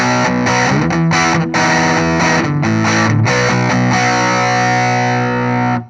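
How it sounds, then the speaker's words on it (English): An electric guitar runs through a TC Electronic Magus Pro distortion pedal in fat clipping mode, giving heavy, thick, bass-boosted chords that are strummed and held, loud and close, ringing out at the end. "We're going to go to fat, which is going to boost the lower frequencies."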